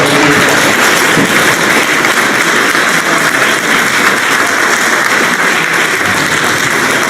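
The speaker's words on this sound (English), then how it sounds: "They all deserve a huge round of applause" Loud, continuous applause from the audience at a League of Women Voters candidate forum in Santa Paula, a thick rain-like roar of many clapping hands held at an even level throughout.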